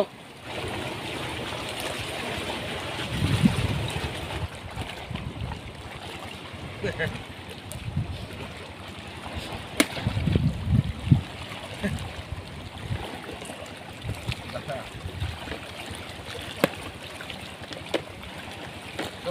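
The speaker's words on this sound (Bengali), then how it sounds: "বৃষ্টি দেখুন চারিদিকে শুরু হয়ে গেছে" Steady broadband hiss of storm rain falling on a Sundarbans river, with louder low rumbles and splashes surfacing now and then, continuous throughout.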